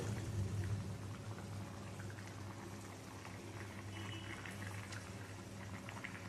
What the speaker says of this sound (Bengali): ঝোলটা যখন ফুটতে শুরু করবে